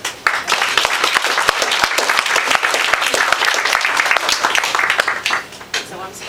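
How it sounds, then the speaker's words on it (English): An audience at a live author talk applauds steadily, dense clapping from many hands filling the space for several seconds, with scattered cheers and voices underneath. "Let's make some noise for Connie."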